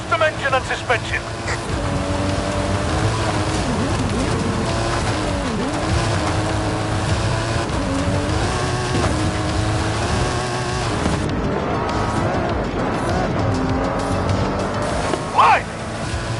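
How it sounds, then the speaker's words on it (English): A custom-built stunt car with a custom engine and suspension roars up a hill in Forza Horizon 5, its engine droning loud and sustained throughout while a voice talks over it. "That stunt vehicle is a Mike Steel Special. Custom engine and suspension."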